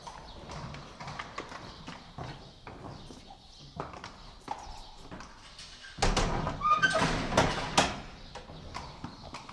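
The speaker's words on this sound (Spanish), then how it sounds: "está otro caballo" Horse hooves clip-clopping on the ground at a ranch where show horses are trained, irregular close hoofbeats with a louder, busier burst of stamping and rattling in the later seconds.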